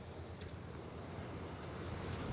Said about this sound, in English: you can hear the waves breaking in here